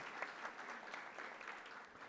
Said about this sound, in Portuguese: eu vou pedir uma salva de palmas aqui já conosco, José Emílio Ambrosio